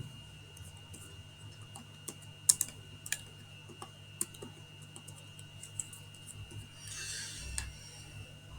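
Typing on a computer keyboard during a data entry lesson, with sparse, faint key clicks and a few sharper taps over a quiet background hum.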